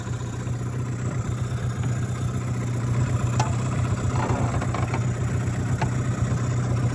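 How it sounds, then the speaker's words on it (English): A restored 1999 15hp Mercury outboard motor idles in forward gear with a steady, low, even running note and a light clatter, close and continuous throughout. "There it is, idling in gear."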